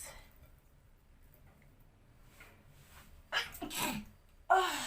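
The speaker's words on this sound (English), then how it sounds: "Black pepper makes you sneeze every time." After a quiet stretch, a sharp sneeze set off by black pepper bursts out close by, with a quick breath before it and another short sneeze-like burst at the end.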